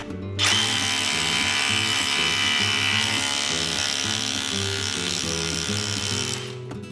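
A rotary hammer drill in chiselling mode starts abruptly and runs loudly for several seconds, a harsh rapid hammering rattle over a motor whine, close up, then cuts off.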